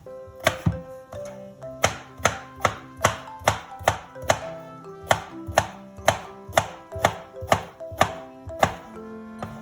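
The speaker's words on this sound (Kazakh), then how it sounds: "Қиярды да 4 бұрыштап турап аламыз." Knife cutting cucumber into cubes on a cutting board, a long run of crisp, close, fairly regular chops, about two per second, over quiet background music.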